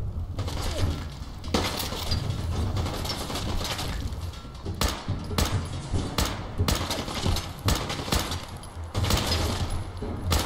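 Submachine gun fire in Fallout 4 comes as loud, close bursts of rapid cracking shots with a shattering edge, repeated in uneven volleys over a constant rumbling game background.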